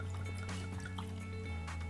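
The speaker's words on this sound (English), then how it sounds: "John, I'm going to go ahead and give us a nice little pour here" Eagle Rare bourbon trickling from the bottle into a glass, a soft continuous liquid pour with light dripping over a steady low hum, close and quiet.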